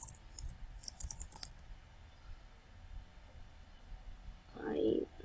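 Clicky computer keyboard typing in a burst of quick keystrokes near the start, fading to quiet room tone, with a louder thump near the end.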